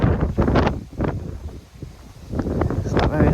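A gust of wind buffets the microphone on a canal bank while fishing, with rough low rumbling surges that rise, dip and swell again, loud and close.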